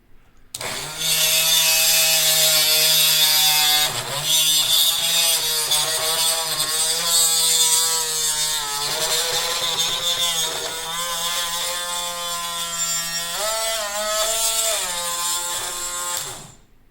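A small power cutting tool whines steadily through a custom lock driver pin, the pitch dipping and rising as the blade bites into the metal, loud and close for about fifteen seconds before stopping.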